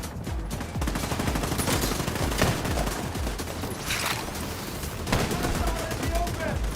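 An automated turret in The Division 2 video game fires in a dense, continuous stream of rapid shots, loud and relentless throughout with a few heavier bursts layered over the rattle.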